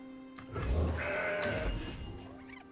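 A Mountain Goat card in the Legends of Runeterra video game lets out a loud, close bleat, a single drawn-out wavering cry layered over low game thumps and background music.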